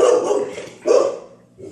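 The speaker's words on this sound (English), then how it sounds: "Sorry about my dog." A dog barks twice close by, two sharp loud barks about a second apart with a short trailing yip, no speech.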